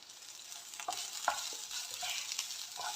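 Mashed potato with a teaspoon of garam masala being stirred and pressed in a hot pan for Netholi cutlet filling, a soft continuous sizzle with scattered scraping and tapping of a spoon, close and moderately quiet, no voices.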